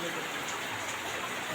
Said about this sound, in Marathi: पाऊस पण पडता बाहेर